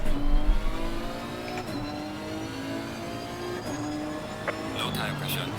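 A race car engine in Assetto Corsa Competizione at Suzuka, running on low tire pressure, drones steadily through continuous revving with rising and falling pitch as the car shifts gears lap after lap.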